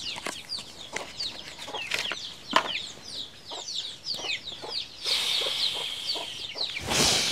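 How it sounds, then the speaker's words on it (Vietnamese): Hens on a rural homestead deep in a remote forest cluck and squawk in short, repeated bursts, close and fairly loud. Some bird calls and wing flutters are mixed in, with no talking. "Tất cả cái số gà này là bác gái nuôi á hả?"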